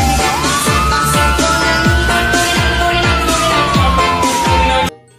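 A toy ambulance siren wails loudly and steadily, its tone sliding slowly up and back down while a rhythmic pulsing pattern repeats beneath it, then stops suddenly.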